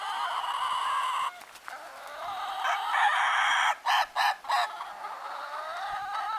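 An Ayam Ketawa laughing rooster on a farm lets out a long, rolling, cackling crow with stuttering bursts, clear and fairly near, with other fowl faintly around.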